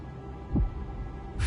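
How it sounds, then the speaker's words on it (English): Faint heartbeat in the video game Honkai: Star Rail, with two soft, low thumps spaced about a second apart over a dull, steady hum. "Tynan's heartbeat."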